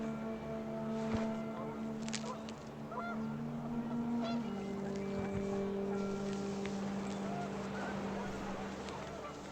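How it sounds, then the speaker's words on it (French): Several panicked geese honk in the video game What Remains of Edith Finch, a busy, steady scene with wind, a low droning engine hum and water-like noise running underneath throughout. "The wind picked up, and panicked geese appeared and quickly went."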